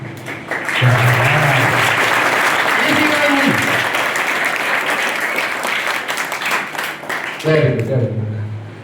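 Audience clapping at a Sankheda D.B. Parekh High School notebook and compass distribution event, loud steady applause with brief voices breaking through near the start, middle and end.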